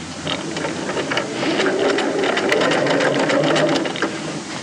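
A sewing machine runs an edge stitch along a cuff, its needle motor whirring in a steady, close rhythm that rises slightly in speed mid-run and holds without pause.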